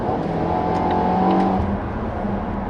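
Volvo XC90 T6 with its 2.0 gasoline engine accelerating on the road, a loud steady engine drone heard from inside the car, its pitch rising briefly then settling, with no voices.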